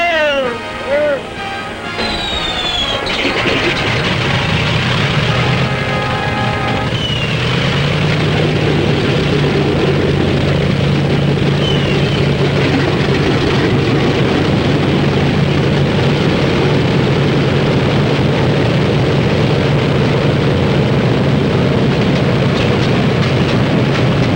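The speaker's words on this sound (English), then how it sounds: "Start engines." Several engines on a WWII bomber crank and start up, settling into a loud, steady, droning roar that fills the whole stretch close by.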